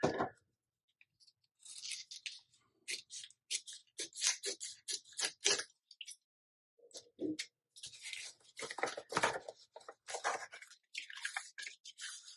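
Paper being cut with scissors for a butterfly-themed vintage junk journal, close and quiet: short bursts of crisp snipping and rustling separated by brief pauses.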